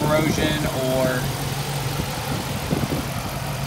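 The 5.7 Hemi V8 of a Dodge Challenger R/T idles with a steady low rumble beneath someone talking close to the mic.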